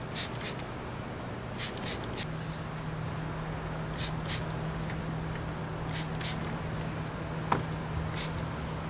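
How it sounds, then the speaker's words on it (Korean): Soapy water is sprayed from a hand sprayer onto a punctured scooter tire, making a string of short, quiet hissing spritzes in an irregular rhythm over a low steady hum. "볼 때 이런 스프레이로 물비누로 이렇게 치우시면 돼요."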